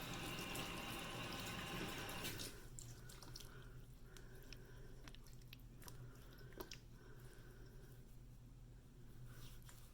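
Warm water runs from a bathroom tap, a steady hiss for about two seconds before cutting off, followed by faint wet squishing of cleanser being worked in.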